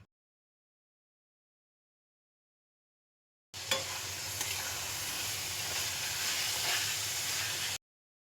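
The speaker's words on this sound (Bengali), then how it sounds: "এটাকে দিয়ে আরও 5 মিনিট মতো আমি এটাকে নাড়াচাড়া করে নেব, যতক্ষণ না এটা একদম শুকনো শুকনো হয়ে যাচ্ছে।" Carrot and powdered milk mixture for carrot ladoo being stirred in a pan, a steady close hissing, scraping sizzle that starts abruptly after silence and runs for about four seconds with no talk.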